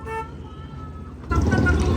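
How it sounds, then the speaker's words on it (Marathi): A short toy train horn toot sounds at the start, then a louder burst of engine-like rumble and noise follows. "हे बघा हॉर्न वाजवला"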